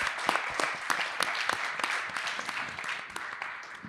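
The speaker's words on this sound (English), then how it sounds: "please join me in applauding Dhruva, Sharon, and the team for this" Audience applause after a presentation honoring a team, a dense, steady wash of many hands clapping at moderate volume, continuous throughout with scattered sharper claps.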